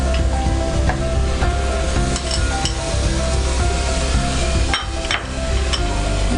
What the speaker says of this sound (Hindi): अब इसको हम थोड़ा थोड़ा डाल के इसको भूनते रहेंगे